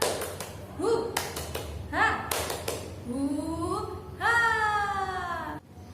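Children in a classroom lesson doing the rhythmic 'tepuk semangat' clap: groups of sharp, evenly spaced handclaps alternate with young voices chanting along, close and fairly loud.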